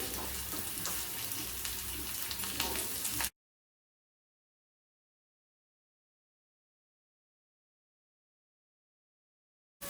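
Onions frying in a pan for suji upma and aloo dum, a moderate close hissing sizzle for about three seconds that then cuts to silence.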